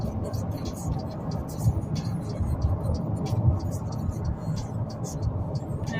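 Road traffic rumbles steadily around a moving van, a continuous low roar of passing cars with people talking over it.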